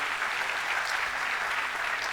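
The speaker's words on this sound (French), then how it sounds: "Vous pouvez l'applaudir." Audience at the Africa Web Festival applauding the festival's initiator, dense steady clapping from a crowd, even and sustained throughout.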